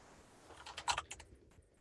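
A short, quiet flurry of computer keyboard typing during an online team meeting call, with a cluster of quick keystroke clicks in the middle that taper off against a soft background hiss.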